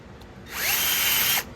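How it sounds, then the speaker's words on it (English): A power drill whines up loudly and steadily bores through metal for under a second, then spins down, with faint workshop background before and after. "and you drill it out"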